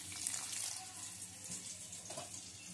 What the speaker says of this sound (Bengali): এবারে দিচ্ছি জল